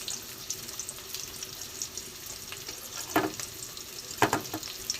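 Chopped garlic and onion fry in a pan with a soft, steady sizzle, broken by a few brief clattering stirs near the end.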